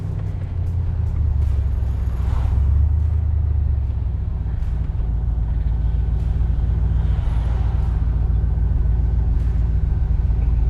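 A red 1967 Corvette convertible with a manual transmission drives along with its engine running, a steady, loud, close rumble that continues without a break.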